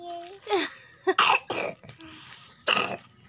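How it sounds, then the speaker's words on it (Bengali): A young child coughs and clears its throat in several short, sharp bursts spread across a few seconds, with an adult voice speaking softly in between. "হাই করে কাশি হচ্ছে"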